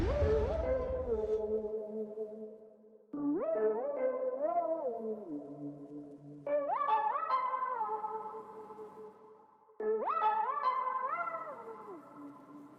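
Weird synth lead built in FL Studio with sliding pitch bends, playing three echoing phrases of warbling, gliding notes after an opening burst, sounding alien-like and played alone.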